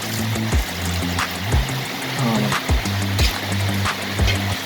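Water is poured over rice to soak it, giving a continuous rushing trickle under recurring tonal background sounds.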